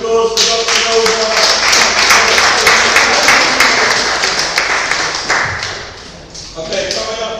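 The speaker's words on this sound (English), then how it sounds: "Can we have a round of applause for Dr." Audience clapping at a book signing event for an author, loud and dense at first, then thinning and fading toward the end, with a few sharp claps and a little background chatter.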